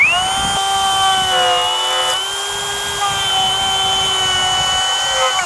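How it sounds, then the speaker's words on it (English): A cordless 1/2 inch plunge cut router spinning steadily on a building site, producing a loud, close, sustained high-pitched whine with a slight pitch dip midway, then cutting off at the end. "the first cordless 1/2 inch, and it's a plunge cut router"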